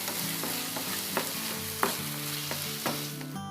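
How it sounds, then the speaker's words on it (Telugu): A pan of tomato rice masala is stirred after salt and turmeric go in, with a continuous sizzle broken by regular spoon scrapes and knocks close by. Nobody speaks. "తగినంత ఉప్పు, పసుపు వేసి మళ్ళీ కలుపుకుందాం"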